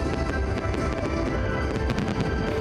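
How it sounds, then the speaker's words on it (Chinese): New Year fireworks burst near the Arc de Triomphe in Paris, a dense run of sharp cracks and pops heard from a distance over steady crowd noise. "接二连三的烟火让民众欢呼不断。"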